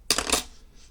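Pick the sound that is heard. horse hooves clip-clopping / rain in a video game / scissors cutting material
scissors cutting material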